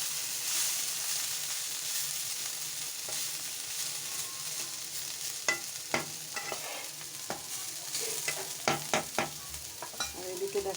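Dry vegetable bhaji stir-fried with garlic in a pan on a gas stove, a soft continuous sizzle that gives way to a run of sharp spatula scrapes and taps in the second half, close up.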